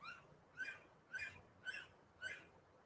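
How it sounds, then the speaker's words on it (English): An unusual bird in a homestead garden calls four times at an even pace, each note a short, bright, slightly raspy chirp, faint and distant in a quiet outdoor setting. "That was a really weird sounding bird."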